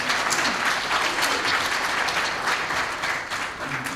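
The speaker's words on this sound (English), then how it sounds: "Give him a round of applause." Audience applause at a summit event, a dense, steady round of clapping from a full room that holds at an even level for several seconds.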